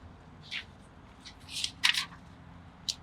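Paper invoice from a reptile shipment of Brazilian rainbow boas being handled, giving a few soft crinkly rustles and flicks in bursts, close and fairly quiet with no talking.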